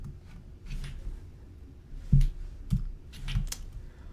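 Computer keyboard typing text into a Photoshop text box, scattered soft key clicks at an uneven pace with a few sharper taps, quiet and close, no talking.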